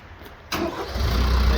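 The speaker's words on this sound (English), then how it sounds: "You need to start the tractor." A Branson F50 tractor engine turns over after a brief quiet moment, catching abruptly and settling into a loud, rough low rumble close by.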